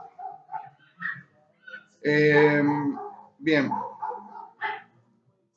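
Several dogs bark and whine in loud, harmonic yelps, with one long drawn-out bark in the middle and shorter ones around it, close to the microphone while someone speaks briefly.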